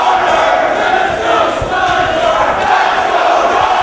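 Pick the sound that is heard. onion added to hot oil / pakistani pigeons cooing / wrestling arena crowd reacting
wrestling arena crowd reacting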